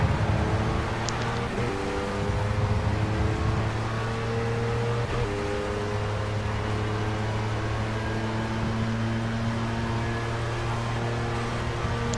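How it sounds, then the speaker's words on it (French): In the racing game Project Cars, a car engine drones steadily as it runs through gears, with a mid-pitched whine that rises and shifts, playing alone without talk. "Les bruits du moteur et tout,"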